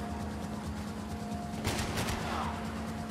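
Gunfire in a Max Payne 3 shootout, a burst of sharp rapid shots cutting over a steady droning game background, with an echoing tail afterward.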